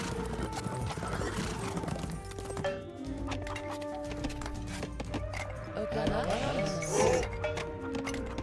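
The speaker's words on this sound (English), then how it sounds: "One horse archer is attacking the wall up there." Horse hooves clip-clopping in the strategy game Age of Empires 2 Definitive Edition, busy battle sounds with neighs and clatter over a background music bed.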